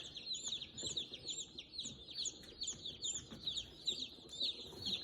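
Baby chicks in a freshly set-up brooder peep continuously in a dense, high chorus of overlapping chirps, fairly close but soft, with faint rustling of bedding underneath.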